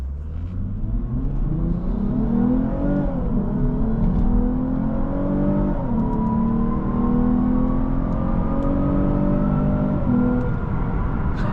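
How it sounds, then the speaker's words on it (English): A 2023 Lexus IS 350 F Sport with a naturally aspirated V6 accelerates through several gears. The engine tone rises steadily, drops briefly at each shift, then climbs again, heard from inside the cabin as a smooth, continuous drone. "Nothing like the sound of a naturally aspirated V6."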